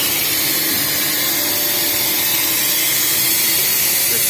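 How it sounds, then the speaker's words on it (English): A multi-core power cable extrusion machine runs steadily in a factory, making a loud, continuous whirring roar with a broad hissing hum that stays even throughout, with no speech. "This is extruder machines"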